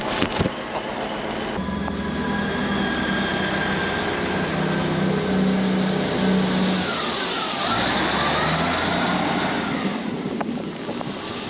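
A train rumbles steadily as it pulls away from Settle station in light rain, a low drone with rising mechanical tones and wind buffeting the microphone throughout.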